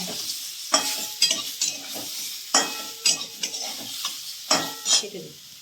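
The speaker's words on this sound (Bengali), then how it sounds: "আমটাকে একটু আমি নাড়াচাড়া করে নিচ্ছি" Salted, turmeric-coated mango pieces sizzle steadily in a hot pan while a utensil stirs and scrapes them in repeated bursts, close and fairly loud.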